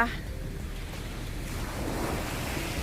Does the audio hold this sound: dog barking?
no